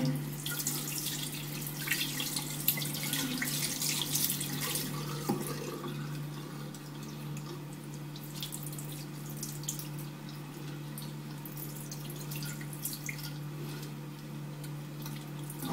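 Makeup brushes are rinsed under a running tap, a steady close stream of water with small splashes and drips running throughout, alone with no talk.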